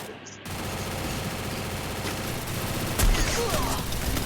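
Gunfire in the Free Fire Clash Squad mobile video game, a steady stream of rapid shots over a busy background with a sharper, louder burst near the end.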